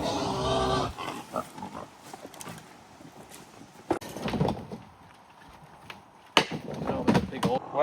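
Pigs in a pig pen on a smallholding grunt and oink close by, mixed with knocks and scraping from work among boulders; people talk at times.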